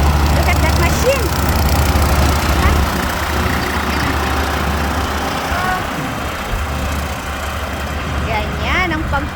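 A lawn mower cuts a wide stretch of grass on a rural property in America, its low engine drone running steadily while a person talks over it.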